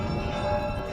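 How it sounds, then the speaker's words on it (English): Church bells ring steadily with a sustained metallic hum and layered tones, filling the short moment with no voices. "Every time I hear the bells, I feel like it cleans my aura."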